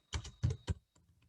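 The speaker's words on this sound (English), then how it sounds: "when you start typing and you see something that you can use, you just click on enter to paste it in your document" Computer keyboard keys tapped during translation work in SDL Trados: a few distinct, fairly loud keystrokes in quick succession, then several much fainter clicks trailing off, with no talking.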